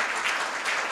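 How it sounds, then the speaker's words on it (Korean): A Korea University law school audience gives a short, dense burst of clapping to welcome a professor emeritus, filling the room evenly with no voices over it. "여러분 큰 박수로"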